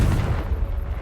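A Confringo blasting spell exploding in the Hogwarts Legacy video game: a single loud, deep, rumbling boom that decays over about a second, with no talk over it.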